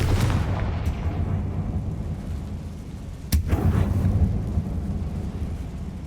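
A Confringo spell in Hogwarts Legacy gameplay goes off as a sharp blast partway through, with a deep rumbling roar that swells and lingers before and after the crack.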